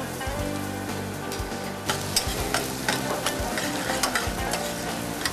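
Onions and garlic sizzle in hot oil for a garlic lobster dish, a constant near frying hiss with stirring scrapes and clicks while a low hum runs underneath.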